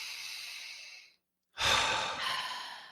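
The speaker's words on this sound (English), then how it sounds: "So just take a big breath in." A slow, deep breath drawn in and let out during a relaxation exercise, a soft airy inhale, a brief silent pause, then a louder, fuller exhale heard close and alone.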